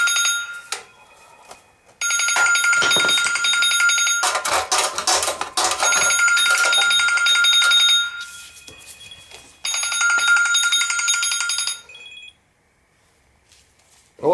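A telephone rings in repeated bursts of electronic trilling tones, about three long rings separated by short pauses, loud and clear with no talking.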